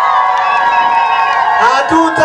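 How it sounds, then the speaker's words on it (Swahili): Crowd at a political rally in Njombe clapping and cheering, a dense continuous roar of voices and applause close by, with whoops rising near the end. "Piga makofi mengi."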